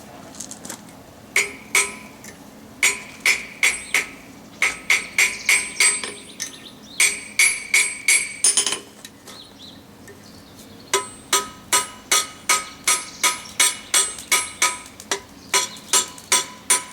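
A hammer forge-welds a scarf joint in flat bar on an anvil, sharp ringing metallic blows falling in quick rhythmic bursts with brief pauses between runs, loud and close.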